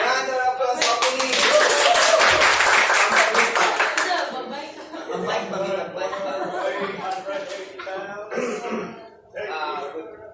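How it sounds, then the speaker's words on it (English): A workshop group breaks into a loud round of applause that peaks early and then thins into scattered claps, with coughs, throat clearing, chuckles and people talking mixed in. "Round of applause, opening"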